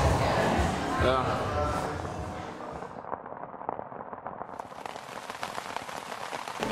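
Rain falls steadily on a cold, cloudy day in Los Angeles, a dense broadband hiss. It is loud and continuous at first, then grows slightly thinner and softer partway through.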